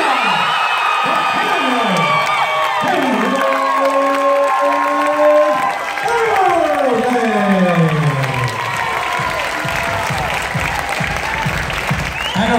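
A boxing crowd applauds and cheers after a unanimous decision, with loud sustained clapping, whoops and shouts while an announcer's voice rings out over the arena.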